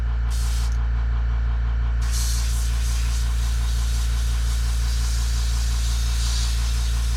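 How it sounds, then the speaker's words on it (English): A Makita air compressor runs with a steady, moderately loud motor hum and deep throbbing pulse throughout, with a couple of brief hissing bursts near the start. "And the compressor ain't that loud."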